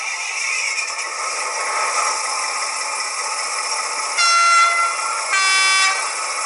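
Rivarossi HO DE18 diesel model locomotive with an ESU LokSound DCC decoder, steady engine hum with two loud horn blasts near the end.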